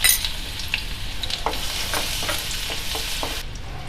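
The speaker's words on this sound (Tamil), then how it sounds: "இப்போ தாளிக்கிறதுக்கு அதே கடாயை வச்சு ஒரு 2 ஸ்பூன் எண்ணெய் ஊற்றிட்டு பொடியை நறுக்கின பூண்டு சேர்த்துக்கலாம்" Finely chopped garlic sizzles in about two spoons of hot oil in a kadai for a tempering, with a steady close frying hiss and occasional stirring scrapes.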